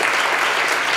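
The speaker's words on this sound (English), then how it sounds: "She's the one that should get the round of applause." An audience at a social emotional learning panel event breaks into loud, dense applause, an unbroken burst of many hands clapping close by.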